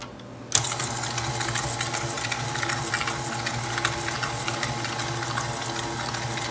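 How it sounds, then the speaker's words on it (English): An electric mixer on a low setting beats oil and white granulated sugar, starting with a sudden switch-on and then whirring in a steady, continuous buzz close by. "I'm going to put our mixer attachment down, and then I'm going to turn it on a low setting."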